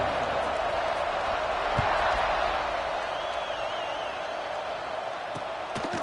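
Football stadium crowd at a Michigan State game roars steadily at kickoff, a broad continuous wash of distant voices with a faint whistle-like tone and occasional thumps.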